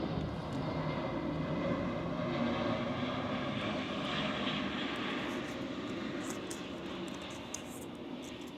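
A propeller airplane passes overhead, a steady loud engine drone that holds throughout and slowly fades toward the end, with no speech.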